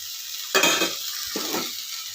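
Water poured into a hot pan for a Bengali fish curry, bursting into two loud hissing sizzles that fade between pours over a quiet background.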